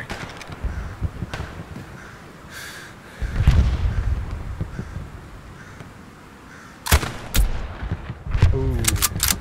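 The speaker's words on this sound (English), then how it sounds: "Dude, I just shot somebody so far away." Hell Let Loose battlefield gunfire: scattered rifle cracks and heavier booming shots, some distant and some close, with a burst of rapid shots near the end; a voice briefly talks amid the fire.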